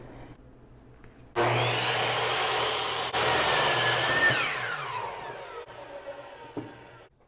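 Wood being cut with a power saw, a loud sustained whine starting abruptly, running steadily for several seconds, then winding down and fading.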